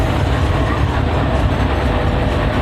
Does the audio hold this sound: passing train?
yes